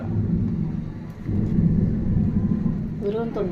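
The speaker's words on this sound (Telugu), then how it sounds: "బాగా ఉరుములు" A low, rolling rumble of thunder swells and fades, followed by a brief voice at the end.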